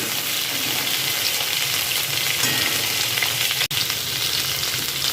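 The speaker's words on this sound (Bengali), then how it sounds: "তেলটা আমার গরম হয়ে গিয়েছে, এতে আমি দিয়ে দিচ্ছি চিংড়ি মাছটা। চিংড়ি মাছটা আমি এই কড়ায় ভেজে নেব।" Prawns frying in hot oil in a kadai: a loud, close, continuous sizzle and crackle with one sharp momentary break near the end and no talking.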